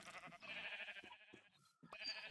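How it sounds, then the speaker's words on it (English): A sheep in Minecraft gives a wavering, nasal bleat, close and clear, followed by a short pause and the start of a second bleat. "Oh, there's a sheep."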